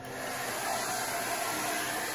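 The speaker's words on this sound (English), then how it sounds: "Put the hairdryer." A hair dryer blows steadily on freshly spray-painted work, a loud, continuous broadband whoosh with a constant high whine, running alone without talk throughout.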